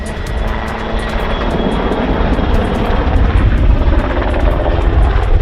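Military helicopters and airplanes roar overhead in a steady, loud, close engine and rotor drone during an air show stunt display, with no talking.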